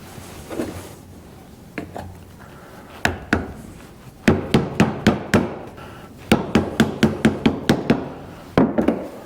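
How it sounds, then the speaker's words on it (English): Hammer blows driving a seal into a Farmall H tractor bull pinion assembly, sharp metallic knocks in irregular bursts of rapid strikes with short pauses, close and loud, no talking. "So that's as far as we're gonna drive that seal in for now."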